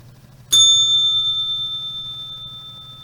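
A single bright bell strike, like a bicycle bell, rings out at the close of a daily market broadcast, loud and close, then a clear metallic tone decays slowly over a low background hum.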